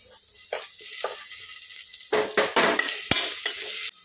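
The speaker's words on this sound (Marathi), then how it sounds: "आता आपला कांदा टोमॅटो चांगला परतला गेला आहे" Chopped onion and tomato sauté in a pan for dal khichdi, with a spatula stirring in short scraping bursts over a light sizzle, the strokes growing busier and louder toward the end.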